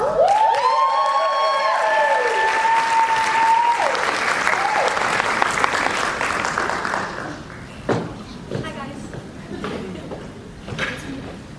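Audience at a leadership summit breaks into sustained applause that welcomes a speaker. Brief tonal sounds rise above it at the start, and the clapping thins toward the end, leaving a few claps and thuds.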